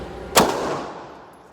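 A single sharp pistol shot from a Glock 17 fitted with a Rock Island Armory slide, loud and close, with a long reverberant tail fading over the next second; no talk.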